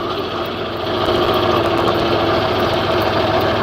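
Hay tractor engine runs at idle on a farm, a steady loud close rumble with a faint vibrating rattle, no talking.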